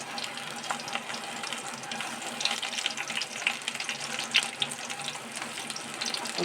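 Eggplant slices coated in cornflour, chili powder, turmeric and salt sizzle in hot oil, a steady hissing crackle with scattered pops, moderately quiet and close.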